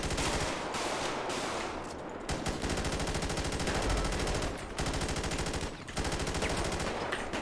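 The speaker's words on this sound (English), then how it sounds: "Shots fired on officers." Dense, sustained automatic gunfire in a GTA roleplay shootout at a jewelry store, loud and nearly continuous with rapid overlapping shots and only brief pauses.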